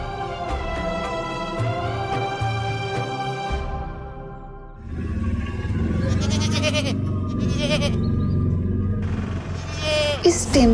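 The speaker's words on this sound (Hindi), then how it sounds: "इस टेम्पो से बकरी की आवाज काहे आ रही है?" A goat bleats repeatedly from inside a tempo, loud and close, its wavering cries overlapping with engine rumble and some shouting voices.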